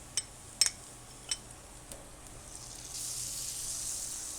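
Oil and butter on a LoCo griddle: a few sharp clinks and taps early, then a soft hiss that swells into a steady sizzle toward the end, faint and close.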